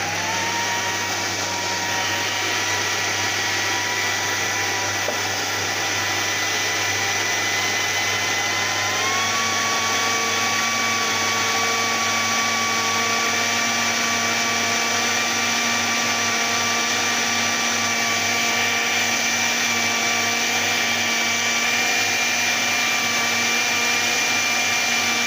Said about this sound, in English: need to blend for about a minute until you don't see more part